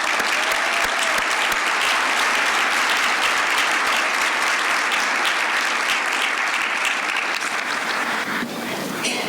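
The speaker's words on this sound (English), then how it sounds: "Please give Susanna a round of applause." Sustained loud applause from an audience at an awards ceremony honoring young professionals, a thick continuous wash of clapping that drops slightly in the final second.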